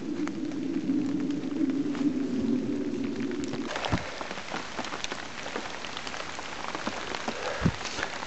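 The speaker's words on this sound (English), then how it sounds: "it's just constantly hammering it down with rain" Heavy rain pours down continuously at a winter woodland camp, a dense close hiss of drops drumming on surfaces, with a low steady hum at first that then drops away.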